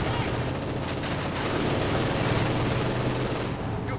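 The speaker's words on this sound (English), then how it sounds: "just lots and lots of bullets raking the poor wooden house" Dense, sustained machine gun fire rakes a wooden house in the Company of Heroes 2 strategy game, a continuous loud rattle of bullets with explosive rumble underneath and a faint voice in the mix.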